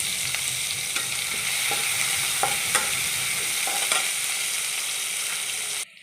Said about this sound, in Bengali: আদা কুচি রসুন কুচিগুলো ভাজা হয়ে গেছে